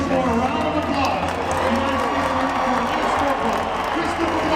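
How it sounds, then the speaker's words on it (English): A crowd at an airport homecoming for an Army soldier applauds and cheers steadily and loudly, a dense wash of clapping and voices mixed with talk throughout. "Once more, a round of applause."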